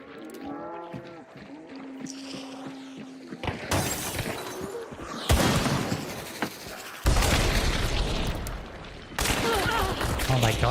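Rapid chain pistol gunfire in a solo-versus-trio sniper match of a video game, loud crackling bursts repeating in several blasts with brief gaps, mixed with game effects.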